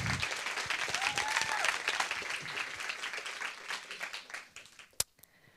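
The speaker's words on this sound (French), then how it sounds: "un tonnerre d'applaudissements" Applause from an audience at a youth awards ceremony, dense clapping that thins and fades toward the end, with a couple of sharp isolated claps near the close.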